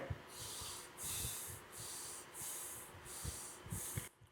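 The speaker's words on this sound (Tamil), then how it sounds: "ஒரு 3 முறை மூச்சை உள்ளெழுத்து மூச்சை வெளியே விடுங்க" Slow, deliberate breaths during a yoga mudra practice, several airy inhales and exhales drawn through the nose in an even rhythm, close and soft with no talking.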